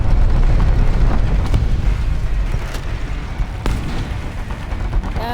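Heavy booming blasts and rumbling gunfire in a tank video game featuring the Fiat 6614 armoured car, loud and continuous, with sharp impacts standing out against a dense low roar.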